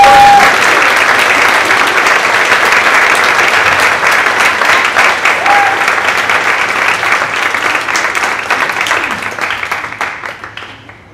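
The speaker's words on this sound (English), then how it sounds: "If you would please join me in applauding our outstanding" Loud, sustained applause from a board of education meeting audience honoring an outstanding educator, steady clapping that gradually thins and fades out toward the end.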